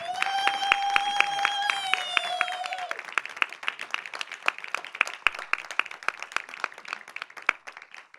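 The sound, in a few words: audience applause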